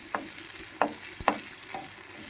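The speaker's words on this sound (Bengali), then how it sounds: "পেঁয়াজটাকে আমি লাল লাল করে হালকা করে ভেজে নেব" Onions frying lightly in a pan until reddish, with a steady soft sizzle and several sharp scraping stirs of a spatula at a regular pace, close and fairly quiet.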